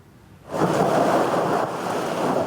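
Heavy rain pours in a steady wash during a storm in Lahore, with a thunder rumble swelling in after a quiet start and holding loud and dense to the end; no voices.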